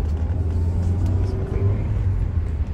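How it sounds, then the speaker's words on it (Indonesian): A car's engine rumbles low and steady as it picks up speed after a gear change during a driving lesson, with someone talking over the hum. "Nah, setelah kosong kita lanjutkan tambah gas"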